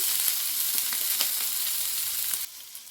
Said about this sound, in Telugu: పచ్చిమిర్చి, అలాగే ఆనియన్స్, క్యాప్సికమ్ మొత్తం అన్నీ వేసేసుకొని వీటిని బాగా మగ్గించుకోవాలండి ఒక 2 నిమిషాల పాటు